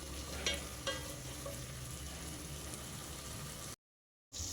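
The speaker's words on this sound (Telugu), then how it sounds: "ఈ పుదీనా కూడా కొంచెం వేగాలి" Mint leaves fry in oil in a pan for bagara rice, giving a steady, low sizzle with a couple of faint clicks from stirring, followed by a brief gap of silence.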